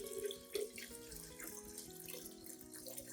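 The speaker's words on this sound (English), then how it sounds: "I'll dilute it with 1 liter of clean water." A liter of clean water is poured to dilute an orchid fertilizer solution, a quiet, continuous splashing trickle close by.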